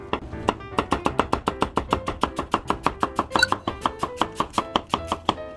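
A knife slices a peeled, cored new onion on a cutting board in a home kitchen, giving a fast, steady run of about two dozen crisp, evenly spaced chops, loud and close, with no talking.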